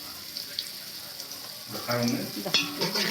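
Ingredients fry in a pan while a vegetable curry is cooked in a home kitchen. Soft sizzling and stirring clatter sit under faint background noise and grow louder and busier toward the end, with clinks of utensils.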